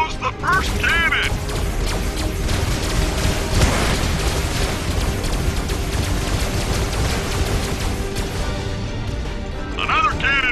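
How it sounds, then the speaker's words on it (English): Cannon explosion in the Skylanders Trap Team video game on PS4, a loud booming crash with dense mechanical clatter and rumble running throughout, game effects layered together. "And boom goes the first cannon!"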